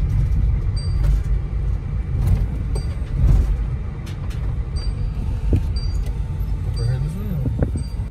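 A pickup truck rolls up outside a performance shop, its engine a steady low rumble with road noise throughout and a few brief higher tones and clinks over the top, no talk.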